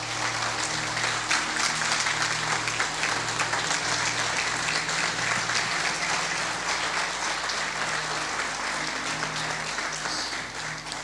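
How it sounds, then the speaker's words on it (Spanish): Sustained applause from a church congregation after a sermon, a steady dense wash of clapping that holds at an even level for the whole stretch with no voices over it. "Den un aplauso al Señor."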